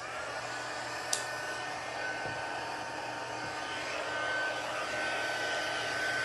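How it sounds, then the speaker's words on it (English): An embossing heat tool runs near a stamp and emboss machine, making a steady, close whooshing drone like a small hair dryer throughout, with one brief click early on. "now I'm going to turn on the heating tool"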